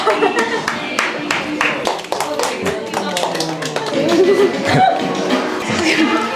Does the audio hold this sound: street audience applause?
yes